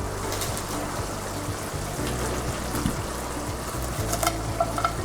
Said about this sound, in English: You can see the skillet is off, but it can still cook the spinach because it's hot.